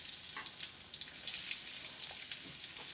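Onions hit hot oil for Indian turkey cutlets, giving a faint, even crackling sizzle with scattered soft pops, quiet and steady throughout.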